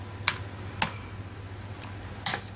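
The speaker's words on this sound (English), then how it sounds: "I am typing." Three separate keystrokes on a computer keyboard running Windows ME, each a sharp, close click spaced irregularly over a quiet room with a steady low electrical hum.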